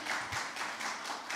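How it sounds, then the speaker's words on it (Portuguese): A small audience claps for the women at a Portuguese-language talk event, giving a short run of soft, fairly even hand claps that sound faint and somewhat distant. "vamos palmas para as nossas mulheres"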